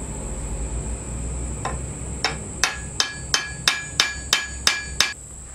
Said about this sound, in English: I'm gonna work my way down and hammer each one down.